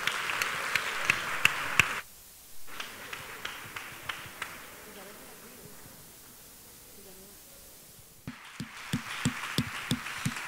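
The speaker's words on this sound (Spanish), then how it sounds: "Un fuerte aplauso para ella." Audience applause at a flamenco gala, a dense burst of clapping that breaks off, leaving a murmuring room with scattered claps, then the applause swells again near the end.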